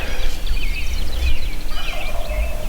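A wild turkey tom gobbles at a distance in Kansas, a rapid rattling call repeated a couple of times over quiet outdoor background noise.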